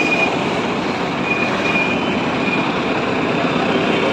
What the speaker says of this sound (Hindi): बड़े बड़े ट्रक जा तो रहे हैं